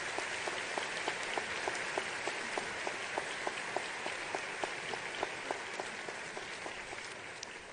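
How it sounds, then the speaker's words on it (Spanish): An audience at a graduation ceremony applauds in a steady, even patter of clapping that continues throughout, somewhat distant and fairly quiet, with no speech over it. "Pido un aplauso para nuestra facultad."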